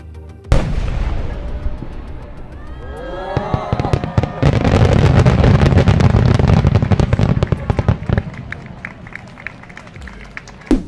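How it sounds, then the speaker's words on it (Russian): A huge fireworks display finale erupts in a dense, loud barrage of booming and crackling explosions that build into near-continuous rapid bursts before thinning out, with a crowd's voices mixed underneath. "Но самым масштабным и впечатляющим все-таки получился третий заключительный салют"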